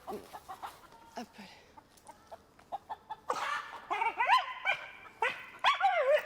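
Indoors, a dog barks in short, sharp bursts while a hen clucks and squawks more and more loudly toward the end, the two calls overlapping near the listener with no clear talk.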